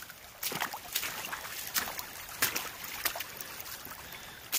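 Water trickling and pouring across a flooded section of the Appalachian Trail, a steady close wash of running water broken by several sharp splashy steps or knocks.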